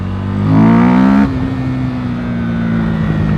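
A Husqvarna Vitpilen 401 single-cylinder motorcycle in stage 2 tune pulls away from a start in third gear, its loud engine note climbing, then settling into a steady drone as it carries on.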